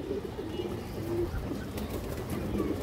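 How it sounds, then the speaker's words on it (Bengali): A khora gola pigeon, an old-strain bird, coos in low, steady murmurs against a constant background hum, with a brief higher tone and faint rustling. "এই নটটা দেখেন খরা গলা কবুতর, খুব সুন্দর কবুতর দর্শক"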